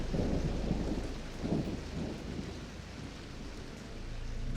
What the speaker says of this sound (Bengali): ঝেঁপে বৃষ্টি এলো